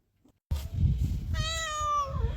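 Cats meowing from inside a trap: a close, drawn-out meow rises and falls over a steady low rustle, following a brief faint tap and a moment of silence.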